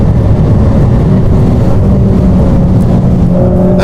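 An AMG car accelerates hard up a long, steep uphill section of a proving ground, a loud, sustained engine roar heard from inside the cabin with a rising tone near the end.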